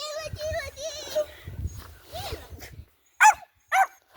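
A dog gives two sharp barks, close by, after a stretch of people talking, including a voice; the barks stand alone with quiet between them.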